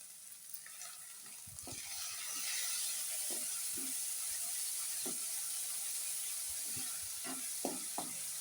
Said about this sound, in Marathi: टोमॅटो पण थोडा वेळ परतून घ्यावा.